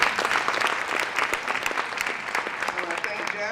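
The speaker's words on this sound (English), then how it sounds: "I think you ought to give him a round of applause" A symposium audience bursts into dense, sustained applause for a speaker, clapping steadily and loudly throughout with a faint voice emerging near the end.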